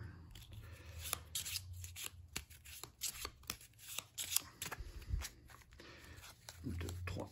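Cards from the Burgle Bros board game are shuffled and handled close by in quick papery flicks, slaps and riffles, with a voice talking through much of it.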